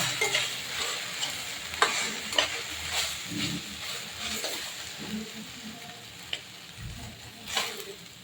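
Okra fries in a pan with black pepper and coriander powder while a spoon stirs and scrapes through it, giving repeated soft strokes over a steady close sizzle.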